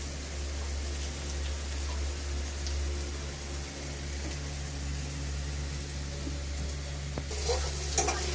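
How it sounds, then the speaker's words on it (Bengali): Capsicum frying in a pan at a home stove gives a steady, soft sizzle with a low hum beneath it. A few sharper clatters come near the end. "আমার ক্যাপসিকাম ভাজা হয়ে গিয়েছে"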